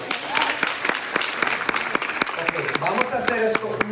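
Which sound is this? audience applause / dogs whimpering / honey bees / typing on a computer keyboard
audience applause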